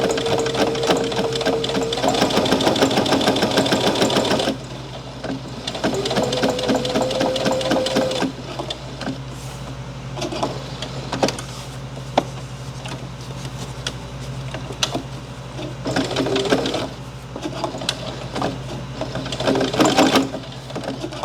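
Sewing machine stitching very thick fabric for a tea coaster: loud, close bursts of rapid whirring stitches, a long run at first and then shorter starts and stops, with the motor straining in places.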